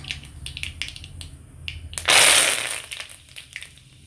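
Curry leaves drop into hot oil that already holds spluttering mustard seeds, giving a sudden loud hissing crackle that fades over a couple of seconds after faint popping.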